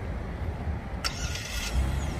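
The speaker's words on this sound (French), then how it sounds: "Donc, regarde la voiture, on la démarre à distance." A Genesis GV80 3.5T Prestige AWD SUV is started remotely with no one inside: a brief click and starter burst, then the engine settles into a low steady idle over background rumble.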